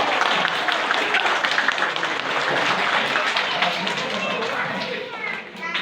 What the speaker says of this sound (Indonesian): Tepuk tangan Om Supriyanto.